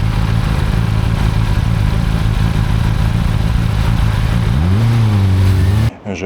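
A Kawasaki Ninja ZX-10R sport motorcycle with 213 horsepower roars steadily while riding, then its engine climbs in a rising rev before cutting off abruptly near the end, loud and close.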